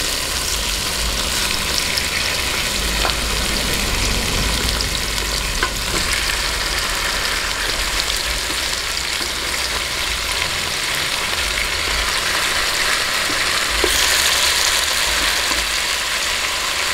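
Pork hock (pata) sautéing with garlic in a pan for ginisang monggo, a loud, dense, unbroken sizzle and crackle running for about seventeen seconds with faint stirring clatter.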